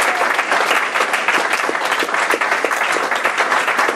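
A church congregation at a Sunday service bursts into loud, sustained applause for Jesus, a dense wash of many clapping hands filling the room without pause.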